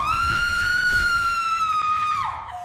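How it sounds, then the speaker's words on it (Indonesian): A woman screams from inside a house, one long, loud, sustained high-pitched cry holding steady before trailing off and dropping in pitch at the end, with faint background noise beneath. "jeritan itu kembali terdengar. Lebih keras, lebih putus asa."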